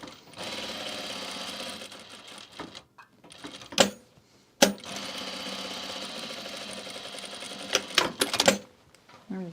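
A sewing machine runs in long bursts while top stitching the center front of a garment, a fast whirring rattle that pauses and restarts, with sharp clicks and knocks between runs.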